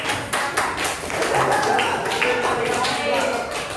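A school class claps together in a quick rhythmic pattern of sharp, close hand strikes, repeated patterned beats filling the room with voices mixed in.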